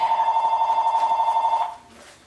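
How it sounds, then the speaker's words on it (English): A telephone bell rings indoors in a steady, rapid trill that runs for well over a second before cutting off, leaving quiet room tone with no talk. "I started recording this and the phone rang"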